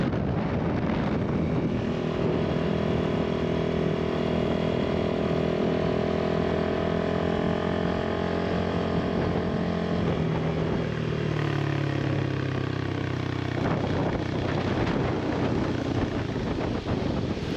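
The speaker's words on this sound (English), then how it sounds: "Everyone should experience this kind of bike ride journey." A motorcycle rides downhill on a mountain road near Malico, Pangasinan, with a continuous loud engine drone and heavy wind rush, its pitch sliding lower toward the end.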